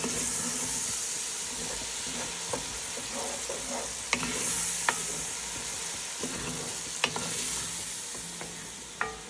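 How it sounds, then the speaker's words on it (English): Cajun chicken and vegetables cooking down in a pan, a steady close sizzle and hiss broken by occasional light clicks of a utensil, with no one speaking. "this is looking so good, and they are cooking down so nice"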